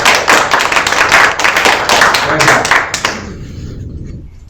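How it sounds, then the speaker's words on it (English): Audience at an African insurance industry conference applauding, with loud, distinct claps in close succession that fade out after about three seconds into quiet room tone. "give everyone a round of applause for making it here"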